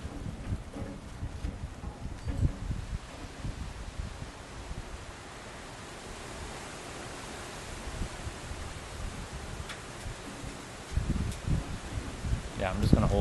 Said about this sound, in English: There's a big wind gust.